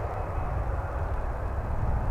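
An airplane at Dallas/Fort Worth airport roars steadily, a continuous broad engine rumble heard alone and fairly loud throughout.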